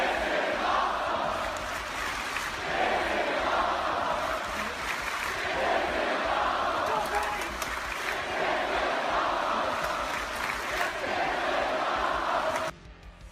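A crowd at a Tetris tournament cheers and shouts continuously and loudly for most of the stretch, then cuts off abruptly near the end.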